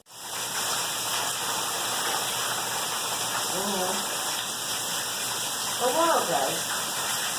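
Heavy rain from Hurricane Irma in Florida pours in a loud, constant rushing roar that fills the whole stretch, while a voice briefly exclaims over it.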